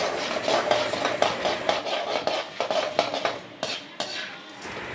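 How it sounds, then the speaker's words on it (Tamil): Dal dry-roasting in a pan while a utensil stirs and scrapes nonstop, giving close, busy scraping and clinking taps in an irregular rhythm with no talking. "பருப்பை கேப் இல்லாமல் வறுத்துக்கோங்க, அப்படி இல்லைன்னா காந்திடும்."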